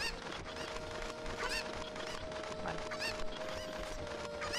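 Cucco chickens in Zelda: Ocarina of Time let out repeated squawking, honk-like clucks over a dense, busy game soundscape with a sustained background tone.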